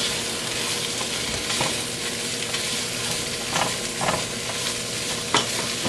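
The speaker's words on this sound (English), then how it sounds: "We're just going to keep stirring this up, getting all of our cabbage with that butter and the drippings from the smoked sausage" Cabbage is stirred in a pot with butter and smoked sausage drippings, a loud, steady frying hiss with repeated scraping and rattling of the utensil against the pot, close up and without speech.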